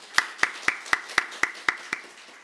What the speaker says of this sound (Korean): 우리 감사의 박수 한번 하겠습니다.